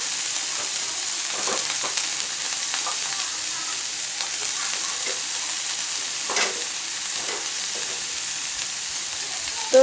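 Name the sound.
capsicum and vegetables frying for paneer fried rice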